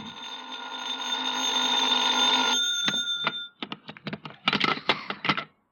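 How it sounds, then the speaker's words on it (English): An old-time telephone bell rings in a sustained, loud metallic trill, then cuts off into a few sharp clicks and handling clatter as the receiver is picked up, with no voices. "I was still in bed when the phone rang."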